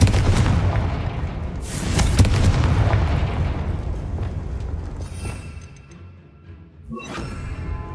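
A Confringo spell explodes in the video game Hogwarts Legacy, with loud booming blasts and rumbling impacts, a sharp burst near the start, then fading debris and a final crack, all without speech.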